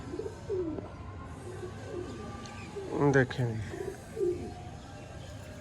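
A Sialkoti pigeon cooing close by, soft repeated throaty coos with one louder, fuller burst in the middle, while someone talks briefly over it.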